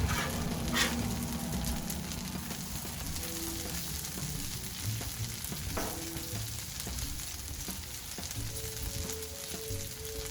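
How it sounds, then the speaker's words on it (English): Bacon fries on a Blackstone griddle beside hash browns, a loud continuous sizzle and crackle with a few scraping spatula clinks as it is flipped, with no talk. "And let's give our bacon a flip."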